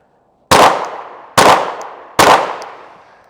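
Three sharp pistol shots from a compact Glock at 15 yards during a timed draw-and-fire drill, evenly spaced under a second apart, each loud crack followed by a short decaying echo.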